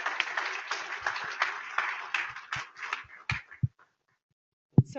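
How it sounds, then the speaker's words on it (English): Scattered clapping from a small conference audience, a thin smattering of hands that tapers off into silence before one last isolated clap. "a round of applause, please, for them"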